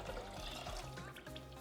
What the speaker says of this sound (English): and pour a cup of water in there as well